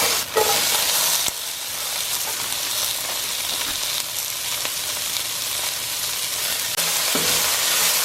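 Vegetables frying in extra oil in a pan, a continuous close, bright sizzle and hiss with small crackles and occasional stirring scrapes throughout.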